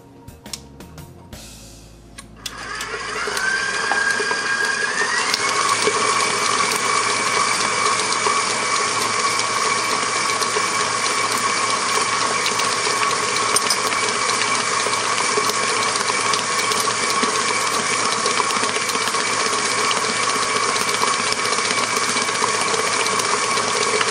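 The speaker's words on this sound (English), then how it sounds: "I'm going to add the eggs one at a time, just letting the mixer go until I can see the egg has been absorbed" An electric stand mixer beats eggs into New York style cheesecake batter with a steady, loud whirring drone that starts after a brief quieter moment and runs unbroken and close throughout.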